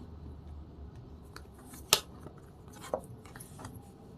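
A deck of cards being gathered and handled, producing a few soft papery clicks and riffles with one sharp snap-like card tap, close and quiet, without talk.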